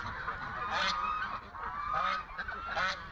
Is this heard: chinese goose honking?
yes